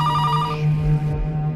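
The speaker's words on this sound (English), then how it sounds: "as the phone rang louder" An old landline telephone rings close and loud, its bell trilling in a steady burst over a low hum, with no voices.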